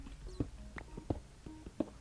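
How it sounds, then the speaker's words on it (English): Spider noises from the Minecraft video game in an abandoned mineshaft: a few short, soft clicking and hissing bursts recur at uneven intervals, fairly faint, with no talking. "Spider sounds like it's coming from"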